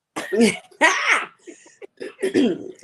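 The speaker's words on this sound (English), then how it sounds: "Let me cough real quick." A person coughs a few times in short bursts, close to the microphone, then clears their throat.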